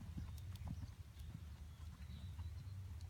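Horse hooves in a flat riding lesson, a soft continuous rolling thud of steps on arena footing, moderately close and fairly faint, with a few scattered higher clicks.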